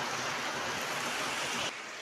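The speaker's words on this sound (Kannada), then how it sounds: "ನೋಡಿ ಫ್ರೆಂಡ್ಸ್ ಎಷ್ಟು ಮಳೆ ಬಂದಿದೆ ಅಂತ" Heavy rain pours down in a steady, dense hiss that drops slightly quieter just before the end.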